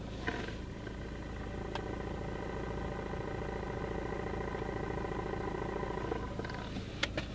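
A VAZ Lada car with a worn clutch release bearing gives a steady, low mechanical hum with the clutch pressed, continuous and close, with faint clicks near the start and end.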